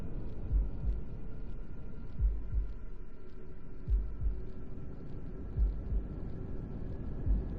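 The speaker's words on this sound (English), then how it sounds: "Nice and steady heartbeat." A slow, steady heartbeat thumps in the Blacksad video game, regular low thuds about every second and a half over a faint hum, no voices.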